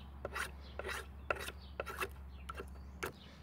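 A knife shaves dry wood into feather sticks, giving about eight short, crisp scraping strokes in an irregular rhythm, close and fairly quiet over a low steady hum.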